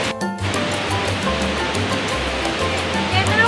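Kawasan Falls in Trinidad, Bohol, its strong water pressure giving a constant broadband roar of rushing water, near and loud, with a brief low thump at the start.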